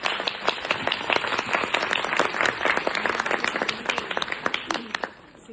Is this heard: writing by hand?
no